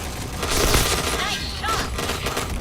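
Rapid gunfire from a video game shooter, a dense fusillade of close, loud bursts with brief tonal game effects mixed in.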